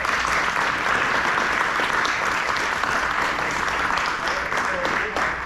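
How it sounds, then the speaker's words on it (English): An audience at a book talk and signing applauds steadily, with dense clapping that stays loud and even throughout and then fades slightly near the end. "Let's give a round of applause for Barney"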